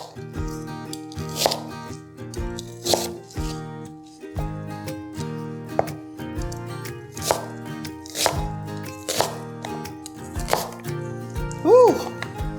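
A kitchen knife chops food into big chunks on a board for a sausage, green bean and potato casserole, with repeated distinct close thunks at a steady pace over background music.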